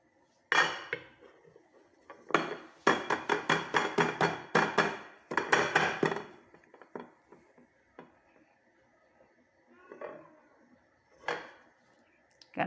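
A metal cake tin holding a baked carrot cake is knocked against a plate. It gives sharp, ringing metallic taps, some single and others in quick clusters, then several sparser knocks with quiet gaps between them.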